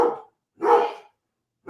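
A dog barks in three separate bursts, close and moderately loud, each short yap followed by silence, with no voices over it.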